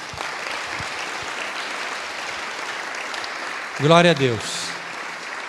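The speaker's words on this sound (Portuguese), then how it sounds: "Vamos aplaudir ao Senhor" Church congregation applauding during an evening worship service, a steady crowd of clapping throughout, with a voice briefly calling out over it near the end.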